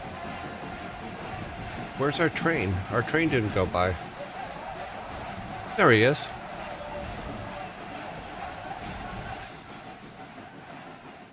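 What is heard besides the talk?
train going by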